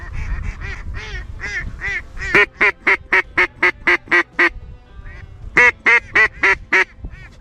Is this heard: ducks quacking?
yes